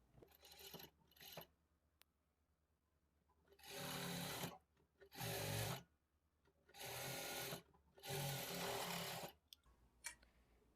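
A sewing machine stitching the lining of a blouse in four short bursts of steady whirring, close and alone, with quiet handling clicks between runs.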